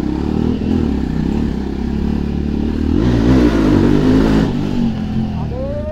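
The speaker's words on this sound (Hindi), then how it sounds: "आज अपनी बाइक चिल्ला रही है, खतरनाक वाली चिल्ला रही है यार।" A motorbike engine revs loudly and steadily up close during a ride on Ram Navami. The engine note surges in the middle and keeps roaring throughout, with traffic noise around it.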